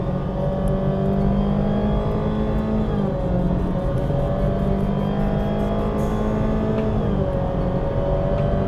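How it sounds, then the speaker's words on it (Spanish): A Honda ZR-V SUV with a CVT accelerates at full throttle in Sport mode, its engine droning loudly at a steady, slowly rising pitch with only slight dips, heard from inside the cabin. "Lo pongo en Drive, un paso más a Sport, vamos a fondo, 2000."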